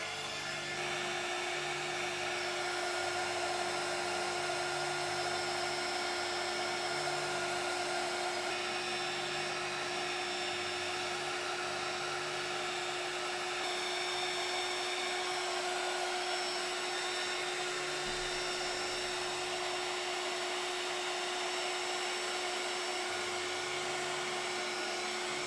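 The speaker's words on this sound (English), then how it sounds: "then we're going to bring in the heat tool" Heat tool blowing hot air to melt embossing powder on a card panel, a steady, continuous whirring fan hum with a faint high whine, held unbroken throughout.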